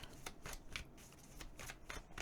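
A deck of tarot cards is shuffled up close, a quiet run of rapid papery riffles and soft flicks in uneven bursts.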